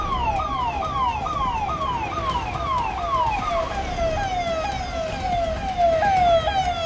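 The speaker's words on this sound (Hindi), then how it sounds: "यहाँ पर एक के बाद एक कई एम्बुलेंस पहुँच रही हैं" Several ambulance sirens wail outside the 100-bed central hospital at the Prayagraj Maha Kumbh after a stampede, one rising-falling wail after another, loud and continuous over a busy crowd and road background.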